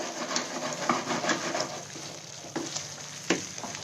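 Halwa cooks with milk in a pan, giving a steady low sizzle and bubbling, with occasional scrapes and taps from stirring. No one talks.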